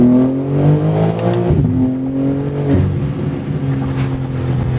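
An automatic BMW G80 M3 revs loudly while driving; the engine note climbs and drops through rising and falling pitch sweeps, close up, with no talking.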